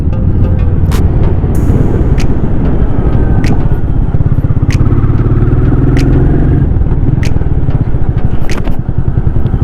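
A single-cylinder Royal Enfield Meteor 350 cruises steadily at about 80 in fifth gear, its even engine drone mixed with heavy wind rush. The sound is close, loud and constant throughout, with no talking.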